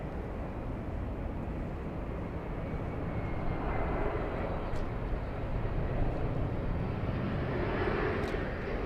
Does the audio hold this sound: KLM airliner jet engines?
yes